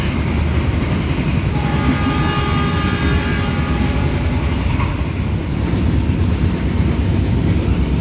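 The Tegal Bahari passenger train runs at speed near 100 km/h past stations, giving a loud, steady roar of wheels and rushing air heard from inside, with faint horn tones midway.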